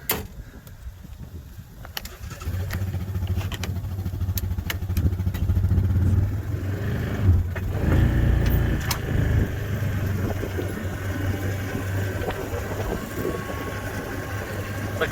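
A Viking utility vehicle engine starts up and drives, giving a steady low rumble with clattering and a slight rise in revs, loud and close throughout.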